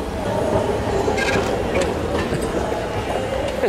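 An airport train hums and rattles steadily, with mechanical clicks and a whining tone over a continuous rumble, close and moderately loud.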